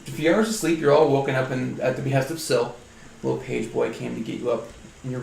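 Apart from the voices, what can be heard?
None of the usual background noises is heard.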